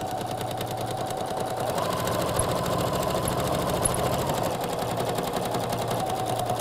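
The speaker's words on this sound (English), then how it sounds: "all I got to do is just sew this up and down" A sewing machine runs steadily in a continuous zigzag stitch, tacking down ribbon on regalia, with a fast mechanical rattle and hum held close and even throughout, no talking.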